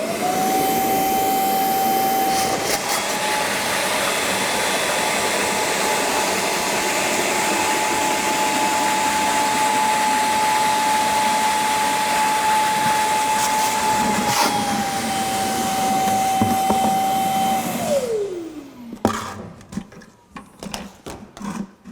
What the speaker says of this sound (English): So we're going to start the vacuum, hit the stopwatch